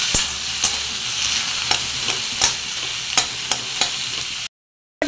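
Snake gourd stirred into fish roe frying in a pan, a steady sizzle with a series of sharp spatula scrapes and taps against the pan, then the sound cuts out abruptly near the end.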